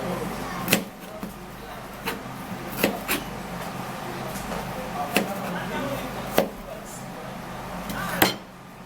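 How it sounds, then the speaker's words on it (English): A knife chops ginger into tiny pieces with sparse, irregular sharp knocks on a board, about a dozen strikes spread out over a steady background hum. "then I will have to be cutting it in little tiny pieces"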